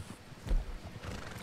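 A horse neighs in the Red Dead Online video game, a short whinny with hoof clip-clop close by, fairly loud over a low rumbling game background.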